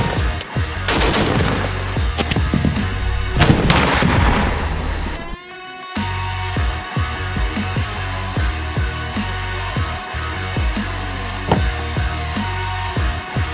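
A Browning M2 heavy machine gun fires on a range: loud bursts of rapid booming shots with echoing reports, then a brief pause, then further steady shooting.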